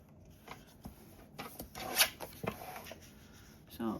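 Standard 8.5 by 11 inch scrapbook paper cut in half, soft scraping and rasping strokes close by, quiet, with a few brief louder snips and a faint voice near the end.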